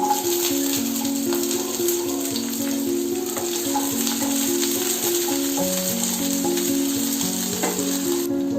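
Garlic cloves and a small piece of ginger sizzle and fry with onion in a hot kadhai for kadhai paneer, a steady close crackle with occasional stirring, no talking.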